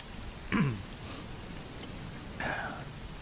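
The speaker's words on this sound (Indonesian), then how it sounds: "Kamu dengerin baik-baik suara hujan yang ada di tempat kamu sama suara hujan yang ada di telepon." Steady rain falling: a continuous soft hiss throughout, broken by two brief vocal sounds.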